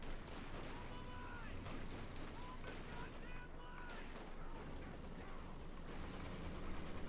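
Gunfire in a Company of Heroes 2 match, a dense battle bed of repeated gunshots and distant artillery booms layered over a constant busy wartime din.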